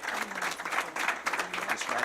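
Applause for a AAA state runner-up high school cheerleading squad at a county board of education meeting, a steady dense patter of many hands clapping that fills the room for the whole moment.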